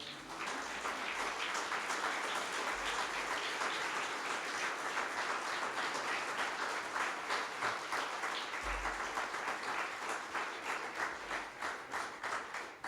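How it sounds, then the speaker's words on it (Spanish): Church congregation clapping in sustained applause, a dense even patter of many hands that holds steady and slowly thins toward the end, with no talk over it. "Dale un aplauso al Señor."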